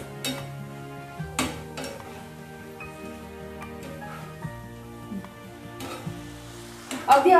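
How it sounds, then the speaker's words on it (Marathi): Sliced coconut fries in hot oil in a pan for homemade chiwda, giving a soft steady sizzle with occasional clinks of a utensil against the pan and a louder scrape near the end. "आपल्याला जे आपण खोबरं घेतलं होतं 100 ग्रॅम स्लाइस करून तेही तळून घ्यायचं आहे."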